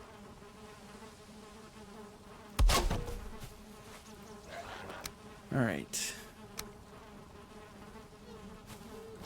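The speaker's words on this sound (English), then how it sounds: "We're gonna have to find some more bees." A steady insect-like buzz of bees in the Valheim video game hums through the clip, broken by a few sharp, loud game sound effects and a single brief spoken word.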